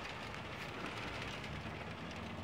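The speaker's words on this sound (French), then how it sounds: "Alors il n'y a que de la grêle." A heavy hail shower in Villers-Bocage in February 2020 drums down as a dense, constant pattering hiss, moderately loud and steady from start to finish, with no one speaking.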